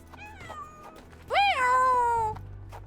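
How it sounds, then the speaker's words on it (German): A cat meows in the video game Sherlock Holmes: The Awakened (2023 remake), set in New Orleans: a short, softer meow, then a long, loud, drawn-out meow, close and clear over a low ambient hum. "Freudige Katze."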